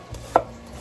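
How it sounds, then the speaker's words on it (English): A knife slices through an onion on a cutting board, one sharp close chop in an otherwise quiet moment. "Slice the onion."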